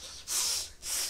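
Two loud, breathy snorting sniffs, each about half a second long, separated by a brief pause, close to the listener with no talking.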